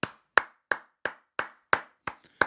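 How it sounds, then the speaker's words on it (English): A single person claps eight times at a steady, brisk pace, each clap crisp and close with a short decay, no voices. "I'm going to give him a round of applause."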